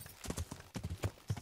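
Horse hooves clip-clopping in Kingdom Come: Deliverance, a brisk near rhythm of about six or seven strikes over a short stretch, with no talking.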